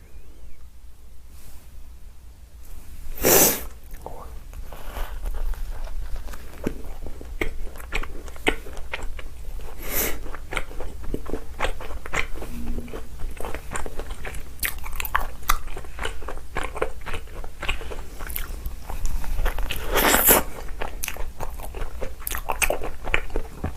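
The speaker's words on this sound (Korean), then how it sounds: "오늘은 뚜레쥬르 신상 말차빵들 먹어볼게요" Tous les Jours matcha cream bread being bitten and chewed up close, with a few sharp crunchy bites standing out over a long stretch of steady soft chewing and mouth sounds, no speech.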